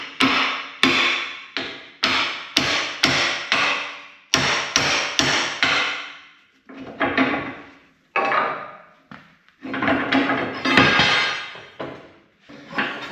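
Heavy steel hammer blows ring out against the flat iron blade of an old, long-idle Cat bulldozer, struck loud and close in quick bursts of several hits separated by short pauses.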